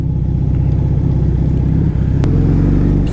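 A car pulls away on a mountain road at night, its engine a steady, close, loud low rumble that holds throughout with a slight rise toward the end.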